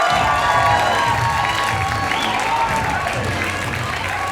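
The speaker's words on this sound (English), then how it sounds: "A round of applause for Howard Parkin." A comedy show audience applauds and cheers as a comedian is introduced, a steady, loud roar of clapping mixed with whoops and shouts from the crowd throughout.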